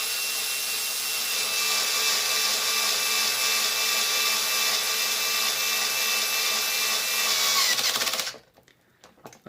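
A power drill on a low torque setting drives screws through the hexes of a plastic wheel hub on a Losi LMT; a steady, close whine runs for about eight seconds and then cuts off abruptly.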